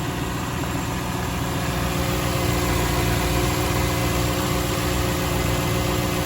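A Lexus LS430 engine with 265,000 miles idles steadily with a low, even rumble and faint vibration, running continuously with no voices.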